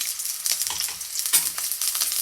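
Sliced onion fries in a pan for paneer fried rice, a close, bright sizzle with soft crackles and stirring scrapes throughout.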